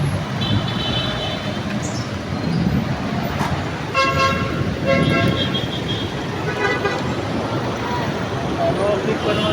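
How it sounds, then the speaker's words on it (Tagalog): Busy road traffic rumbles along while car horns toot repeatedly, in short and overlapping honks, with people talking under the traffic noise. "Traffic pa naman rin guys."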